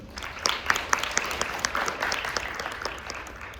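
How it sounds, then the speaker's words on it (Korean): A conference audience at a business forum applauds to welcome a speaker, a dense, steady spread of many clapping hands filling the room at moderate distance, with no speech over it. "박수로 환영해 주시기 바랍니다."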